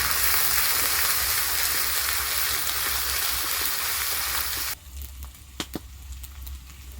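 Ginger fries in a pan with a loud, dense sizzle that cuts off abruptly as turmeric goes in, leaving quieter sputters and a few sharp clinks near the end.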